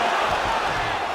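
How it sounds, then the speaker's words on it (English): An arena crowd roars and cheers in the UFC 5 fighting game during a women's ground fight reversal, a dense, loud wash of noise over a short moment. "Crowd goes crazy as she reverses the position."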